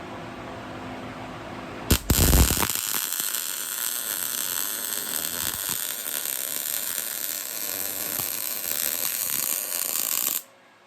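Welding metal dice: a sharp start after a brief pause, then a loud, steady crackling hiss that runs for about eight seconds before cutting off abruptly.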